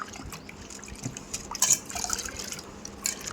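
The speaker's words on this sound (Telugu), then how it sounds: "శనగపప్పుని బాగా రెండు మూడు సార్లు కడుక్కొని" Split chickpeas (chana dal) being rinsed in water: soft trickling and sloshing with small drips and a few brighter splashes, close and fairly quiet, with no talk.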